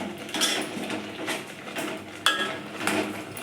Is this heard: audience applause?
no